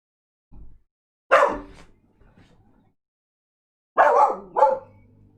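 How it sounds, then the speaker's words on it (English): A dog barks in short bursts, one small yip and then two clear pairs of loud, close barks with quiet gaps between them. "that's the sound of a dog who has just heard somebody do nothing"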